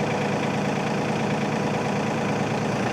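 The engine of an LS MT232H compact tractor idles in a steady, loud diesel-like drone with a faint rhythmic knock, unchanging and close throughout.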